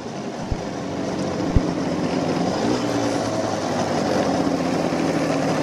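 Puch Lido SL moped engine droning steadily while riding, a buzzing two-stroke tone that rises and shifts as it moves up through the gears, with wind rush and a couple of knocks early on.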